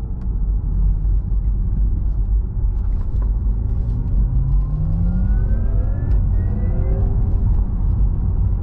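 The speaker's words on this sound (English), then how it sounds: "I'm gonna punch it here in a second so you can hear what the electric sound sounds like" A 2022 Porsche Taycan electric car accelerating hard from inside the cabin, with a synthetic drive sound rising steadily in pitch over a heavy road rumble, loud and continuous.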